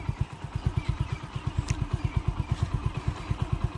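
A motorcycle engine pulses in a fast, regular, loud thump as the clutch is released, with strong, even beats throughout and no speech.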